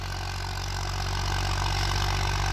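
A 1991 Massey 35 tractor, working a cultivator on a field, runs with a loud, steady engine drone that holds constant for the whole stretch, with no talking.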